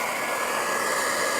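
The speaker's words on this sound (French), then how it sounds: "on va lancer le sèche-cheveux, on va le mettre à fond" A hair dryer runs at full power off a portable power station, a steady loud broadband whoosh with an even, unbroken hiss and no talk.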